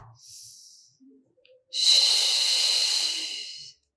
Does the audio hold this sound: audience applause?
no